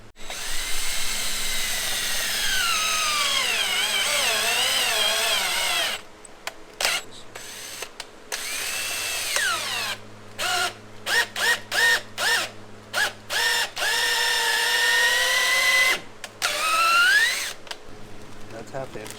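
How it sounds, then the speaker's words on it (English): A power drill bores a 3/8 inch hole in a metal radiator mount, whining steadily at first and then running in short, stuttering bursts with rising pitch, with a voice talking under the noise. "Drill a 3/8 hole in there."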